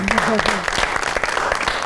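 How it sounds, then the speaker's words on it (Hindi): Studio audience applause on a talk show, a short burst of brisk clapping with a voice speaking over it at the start. "बहुत सारी तालियां"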